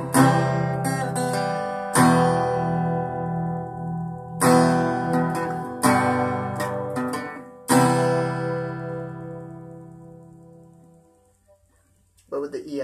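An acoustic guitar plays a chord progression, strumming a handful of chords one after another, each left to ring and fade before the next.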